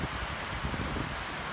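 Steady wind buffeting a microphone, a constant low rumbling roar with soft rustling, no voices.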